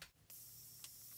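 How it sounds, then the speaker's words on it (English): A Morphe setting spray is misted onto a face in short, continuous hissing bursts, quiet and close, with a brief pause between sprays. "for my setting spray, I'm using this Morphe setting spray"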